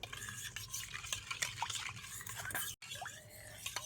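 Yeast and powdered sugar mixture being stirred in a bowl, steady scraping and swishing strokes close by with light liquid clinks, a brief pause near the end before stirring resumes.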